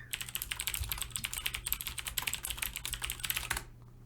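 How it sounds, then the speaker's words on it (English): Tafo types rapidly on a computer keyboard, a close clatter of quick keystrokes in uneven bursts that runs for about three and a half seconds and then stops, with no voices over it. "Nothing triggers me as much as Tafo typing."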